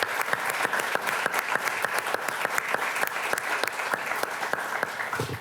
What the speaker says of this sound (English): Let's give Dame Keegan a round of applause.